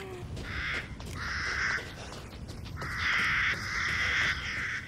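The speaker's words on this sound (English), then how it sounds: "You hear them crows?" Crows caw repeatedly in the Resident Evil Village demo video game, with several harsh calls in two clusters over a low ambient rumble, fairly close and clear, with no talking.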